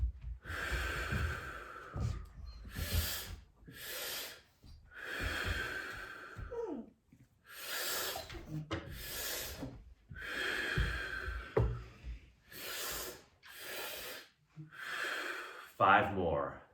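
Deep breathwork practice with slow, loud inhalations and exhalations through the mouth in a steady rhythm, each breath a long airy rush followed by a short pause, close and prominent throughout.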